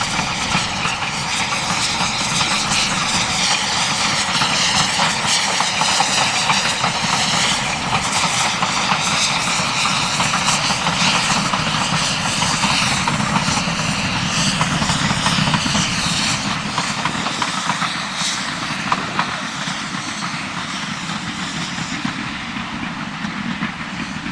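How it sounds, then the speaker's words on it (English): Steam locomotive 53809 on the Bluebell Railway works steadily past with a continuous loud rumble, rhythmic chuffing and rolling wheel noise throughout. "Steadily drop and downgrade from Horsted Canes, 53809 heads for Sheffield Park with the 11:30 a.m. service from Kingscote"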